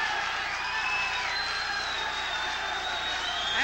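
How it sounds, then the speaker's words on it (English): Steady crowd roar and cheering from a boxing match audience during a long 10th round between Freddie Roach and David Capo, a dense continuous wash of voices with no distinct claps or whoops rising above it. "And the crowd is cheering"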